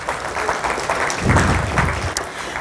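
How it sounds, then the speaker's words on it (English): A short burst of audience applause at an HR forum, dense and sustained for a couple of seconds, with a single voice briefly heard within it. "Let's give ourselves a round of applause"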